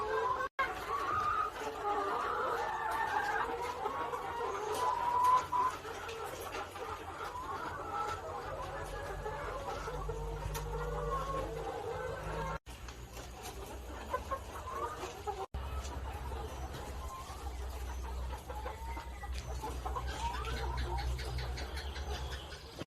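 Laying hens cluck and murmur steadily in a yard while a person talks over them.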